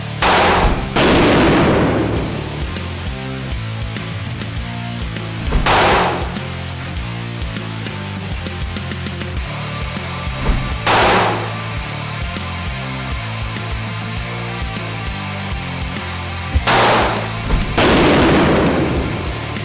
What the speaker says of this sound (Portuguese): o que vocês acharam dos disparos no bloco de gelatina balística?